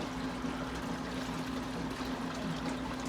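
A gravel cleaner vacuums cloudy water in a fish room aquarium, giving a close, steady rushing and gurgling of water throughout.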